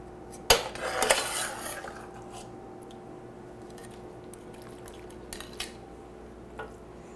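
Food scraped and spooned into a baking dish for a home-cooked Italian casserole, with a sharp clatter of utensil against the dish at the start, a few scraping knocks, then quieter faint clinks.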